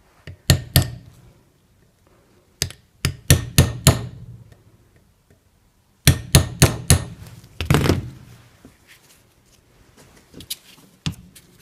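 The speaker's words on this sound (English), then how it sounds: "I give this a little tap here" Hammer tapping on a Toyota RAV4 CV axle boot: loud, sharp metallic knocks in quick clusters of three to five, with pauses between them and several faster strikes near the middle.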